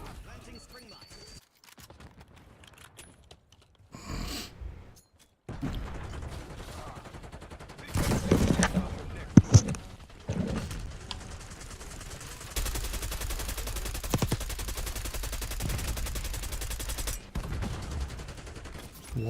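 Video game gunfire wall-banging through a fence: bursts of rapid automatic shots and sharp single cracks, loud and close, separated by quieter gaps with player chatter.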